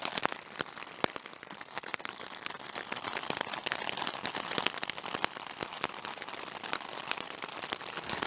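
Hailstones batter a tent in a storm, sharp individual cracks scattered over a steady hissing drum on the fabric, close and sustained throughout.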